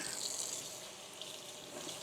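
Tap water runs in a steady, soft hiss with faint splashing while eggplant and shrimp paste are prepared in a home kitchen, with no voices.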